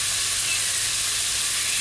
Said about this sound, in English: so you just give it a stir, and then allow it to simmer on one side